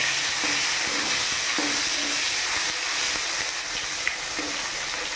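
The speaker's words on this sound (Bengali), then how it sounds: "এবার এখানে আমি মশলাটা দিয়ে দিচ্ছি, জিরে আদা টমেটো" Cumin, ginger and tomato frying in oil for a fish curry, giving a loud continuous sizzle with a few faint stirring taps, close up and without talking.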